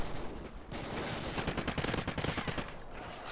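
Dense automatic gunfire in a Call of Duty Ghosts multiplayer match, rapid overlapping bursts filling the whole moment with a loud, crackling rattle.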